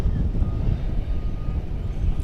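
A distant MD-11 jet takes off at night from Dallas Fort Worth airport, a low, broad roar blended with wind buffeting on the microphone, steady and fairly faint.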